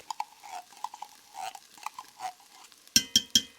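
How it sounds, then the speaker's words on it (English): Tomato paste stirred in a pot with a spoon, soft scraping strokes in an uneven rhythm, close and fairly quiet, ending in three sharp metallic taps on the pot rim. "So just stir this around a little bit."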